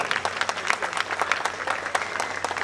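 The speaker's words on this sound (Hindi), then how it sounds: "जोरदार तालियों के साथ।" Loud applause from a community audience in Arjun Nagar, New Delhi, at a 2014 memento presentation to BJP MP Meenakshi Lekhi, steady dense clapping throughout with a low hum underneath.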